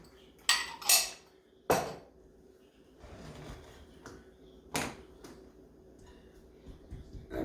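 Swedish nut cake batter with undrained pineapple is mixed in a bowl: sharp spoon clanks against the bowl, a few isolated knocks, then softer stirring.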